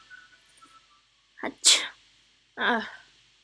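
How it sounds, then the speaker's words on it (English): A character in a visual novel game sneezes twice, with a short gasp before the first sneeze. Each sneeze is loud and close, alone over a quiet background. "Distracting me with your sneezing isn't going to work"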